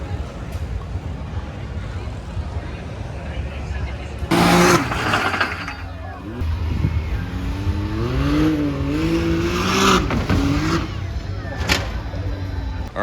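A Jeep fitted with a Hellcat engine performs repeated burnouts at a sand sport show, its loud rumbling engine and revving heard alongside crowd noise and talk nearby.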